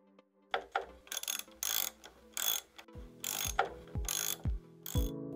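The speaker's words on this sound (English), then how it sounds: "use a 5/8 spark plug socket wrench to install the new spark plug here." A ratchet socket wrench installs a spark plug in a car engine, giving repeated bursts of quick clicking pawl strokes, roughly eight of them, close and clear with nobody speaking.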